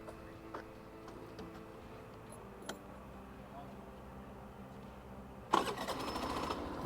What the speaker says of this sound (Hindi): अब करता हूँ इसको स्टार्ट।